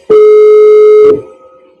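A telephone ringing tone sounds during a call at a campaign event, as a single loud, steady electronic tone lasting about a second that cuts off into a faint hum.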